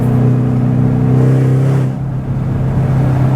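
A Ford Mustang Shelby GT500, rated 760 hp, accelerates with a loud, steady engine drone that dips briefly before rising again, heard close and continuous with no talking.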